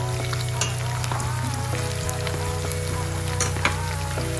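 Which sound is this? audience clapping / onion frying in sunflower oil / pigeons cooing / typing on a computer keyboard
onion frying in sunflower oil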